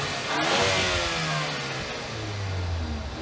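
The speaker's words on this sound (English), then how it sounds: "let's go show you the revving of the engine from the back" A 2015 Ford Fusion SE with a 2.0 engine revs as heard from behind the car. A rising surge is followed by a falling engine drone that holds steady at moderate loudness, with no one speaking.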